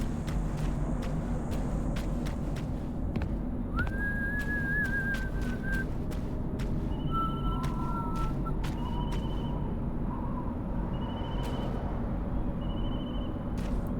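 Whistling in the horror video game FNaF: Secret of the Mimic, with a player's short whistled tones answered by a bird-like whistle over a dense, steady game ambience, with clicky transients throughout.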